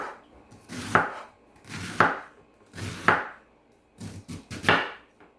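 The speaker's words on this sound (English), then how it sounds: "So I'm going to finish cutting up my cabbage and get it all nice and clean" A knife chops through fresh cabbage on a cutting board in about six crisp, separate strikes, spaced roughly a second apart with a quicker cluster near the end, close and clear with no talking.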